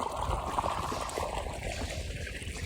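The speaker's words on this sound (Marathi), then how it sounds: "बघू शकता मस्त प्रकारे पाणी येत आहे, नितळगार पाणी" Water flows steadily from a running pump motor into a freshly prepared onion field, a continuous rushing, trickling wash with no voices.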